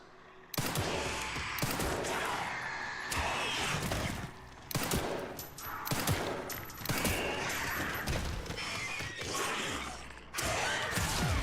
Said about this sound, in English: I'm gonna shoot this one